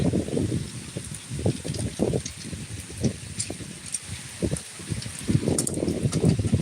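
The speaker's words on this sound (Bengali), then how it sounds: "জোরে জোরে বৃষ্টি নেমে গেছে" Heavy rain pours steadily and close by, a dense continuous hiss with bursts of rustling and patter rising and falling across the whole stretch, no voices.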